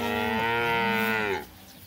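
A single cow in a cocklebur field grazed by a cattle mob lets out one long, loud, drawn-out moo that fades into a quiet field.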